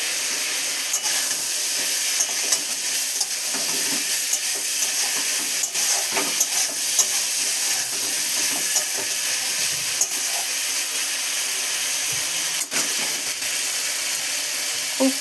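Fried prawns added to a pan of potato and bitter gourd give off a steady, even sizzling hiss that holds unbroken for the whole stretch, with no voices over it.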